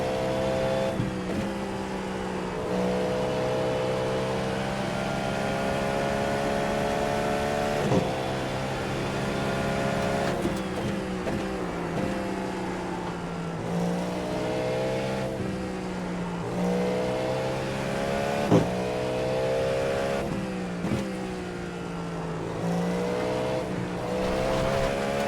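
A prototype race car engine in the iRacing sim, a loud, steady, high-revving drone that dips and climbs through gear changes and braking for corners, with brief clicks between, alone for about twenty-five seconds.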